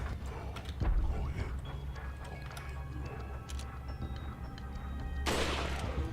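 Gunfire in the video game Resident Evil 4: one sharp shot early on and a louder, fuller blast near the end, both over a steady low game ambience with no talking.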